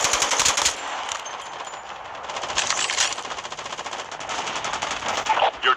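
Automatic gunfire from a Call of Duty Mobile tournament match rattles in rapid, close bursts almost without a break, loud and dense throughout.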